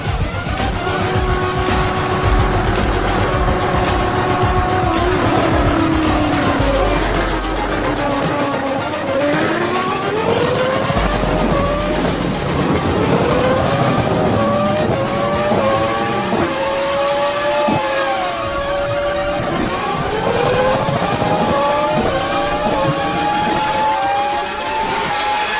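Racing engines from a car and a motorcycle in a drag race, revving and accelerating hard with rising and falling pitch sweeps, loud and continuous throughout.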